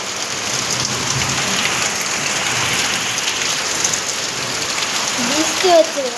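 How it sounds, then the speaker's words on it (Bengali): Steady rain falling on a pond outdoors, a dense even hiss of drops throughout with faint voices underneath near the end. "বৃষ্টি হচ্ছে দেখো।"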